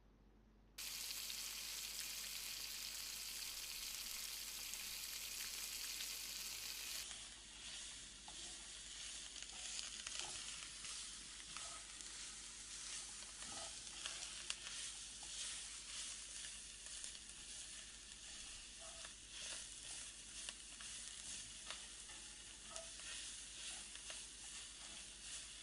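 Vegetables sautéing in a pan for veg biryani, a loud burst of hiss at first settling into a continuous softer sizzle with faint stirring clicks.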